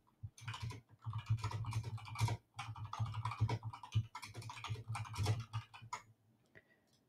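Quick bursts of typing on a computer keyboard, close and quiet, with clustered key clicks and brief pauses between runs, no one speaking.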